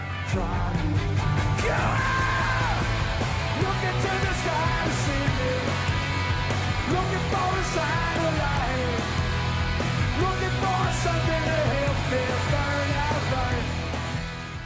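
A huge crowd of about 80,000 fans yells and screams at a rock concert at Wembley Stadium, a dense, continuous roar with rising cheers throughout.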